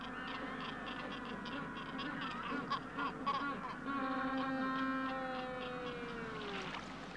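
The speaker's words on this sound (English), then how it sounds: "they're noisy enough, especially at the start of the season, when a good deal of braying goes on" Magellanic penguins bray in a nesting colony in Falklands tussock grass. Loud, drawn-out honking calls overlap and repeat, with harmonic brays rising and falling against a steady background hum.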